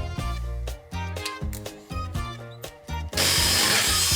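A power drill whirs in short repeated bursts, revving and stopping several times, then a louder, harsher grinding run at the end; no voices.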